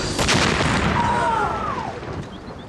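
A hand grenade detonates in a street ambush on an open-topped staff car, giving a broad, heavy boom that rolls out and lingers as a loud rumbling wash with a falling whine.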